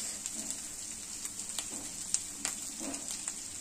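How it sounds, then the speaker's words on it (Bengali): Ground spices, including cumin powder, fry lightly in a pan for a chicken curry cooked with bottle gourd: a soft, even sizzle with small irregular pops and stirring scrapes throughout, heard alone. "একটু হালকা ভাজা ভাজা করে নেব।"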